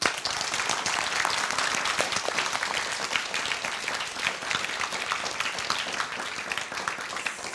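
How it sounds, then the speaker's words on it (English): Sustained applause from a studio audience for contestants at a Lotte Department Store competition, dense steady clapping filling the whole stretch without pause. "Let's give them a round of applause."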